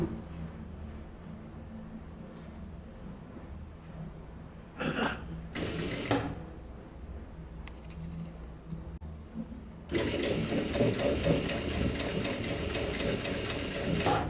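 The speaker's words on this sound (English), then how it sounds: "Now you sew on top." A sewing machine stitches stretchy baby swimsuit fabric in a series of bursts: short runs near the middle, then steady continuous stitching that holds to the end, close and fairly loud with quiet pauses between runs.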